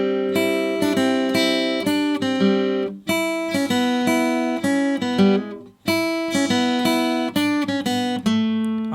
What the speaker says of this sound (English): just a little bit of lead guitar work that's gonna come in